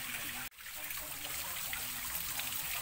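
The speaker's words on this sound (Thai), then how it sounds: "เขาเห็นน้ำไหลนะคะน้ำไหลกระเด็น" Water flows and splashes steadily from a small waterfall outdoors, a continuous trickling rush broken by one sharp dropout early on, with no talking.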